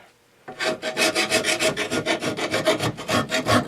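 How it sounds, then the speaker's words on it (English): A hand file sharpens the edge of an old Craftsman lawn mower blade in about fifteen quick, rhythmic rasping strokes, close and loud, after a brief quiet start. "you can do it with a file"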